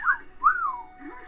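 A bright whistle sound effect in the golf video game Everybody's Golf: a short rising chirp, then a longer swooping whistle that glides down and fades, ending in a faint low trailing tone.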